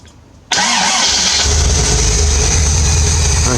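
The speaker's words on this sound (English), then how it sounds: "you can hear that induction a bit more" A car engine fitted with a new intake filter cranks and catches after a short quiet moment, then settles into a loud, steady idle with a deep rumble and audible induction noise, with no talking.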